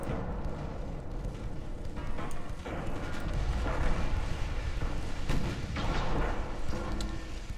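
A torpedo strikes a warship amidships in a naval battle game, heard as a rumbling series of heavy booms and dull impacts that swell and roll on over several seconds at moderate loudness.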